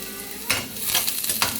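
Chicken for chicken afritada spits and splatters in a hot pan, a close, dense crackle swelling in two brief bursts over a steady sizzle.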